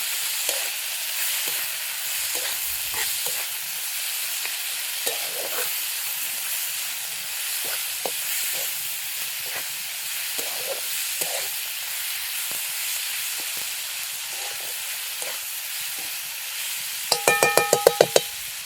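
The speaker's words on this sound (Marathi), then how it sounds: "हे सुद्धा आपल्याला कांदा बरोबर परतून घ्यायचं." Chopped tomatoes sauté with onion and garlic in a pan for bharit, a soft continuous sizzle with scattered spatula scrapes, ending in a rapid burst of sharp clinks near the close.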